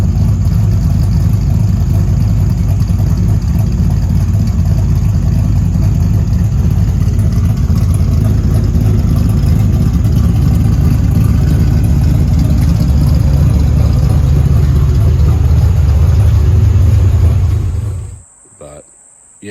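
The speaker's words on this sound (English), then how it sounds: "I'll throw a clip in here of just the standard idle leaned out down in my carport when I was tuning it." A turbocharged LS1 V8 car engine idles on a leaned-out tune in a carport, a loud, close, continuous low rumble with a steady throb that cuts off abruptly near the end.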